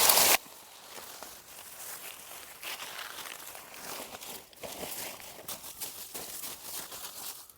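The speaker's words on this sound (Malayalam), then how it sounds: "ഇതിലേക്ക് നമുക്ക് കരിയില ഉണങ്ങിയ കരിയില ഇട്ട് കൊടുക്കുക" Dry leaves are dropped into a grow bag for planting a mango sapling, a soft, close crinkling and rustling that continues quietly after a brief louder noise at the start.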